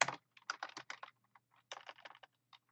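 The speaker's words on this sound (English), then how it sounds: "Sorry for the keyboard noise." Computer keyboard typing in short, uneven bursts of close clicks, with brief pauses between clusters of keystrokes.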